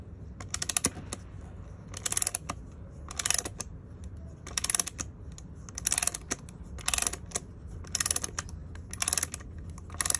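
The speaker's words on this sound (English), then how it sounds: "I'm actually tightening the screw and it's loosening, it's pulling it out." Wrench turning a screw to pull a pole piece from a guitar bridge, with repeated bursts of sharp ratcheting clicks at a steady rhythm, close and fairly quiet.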